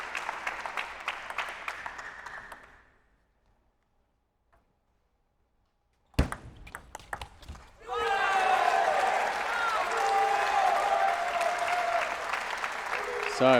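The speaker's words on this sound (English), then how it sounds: "we're getting a bit more crowd support behind Canuck Jar" Clattering applause from the crowd at a men's team table tennis match in the 2019 North American Olympic trials, fading to near silence, then returning with claps under a commentator's voice.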